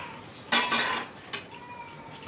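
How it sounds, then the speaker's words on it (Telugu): A cooking pot lifted off the stove, a sharp metallic clank followed by a brief scraping rattle and a second lighter knock, close and alone in a quiet kitchen. "ఇలా గిన్నె దించుకున్న వెంబడే కొంచెం వేడిగా ఉన్నప్పుడు"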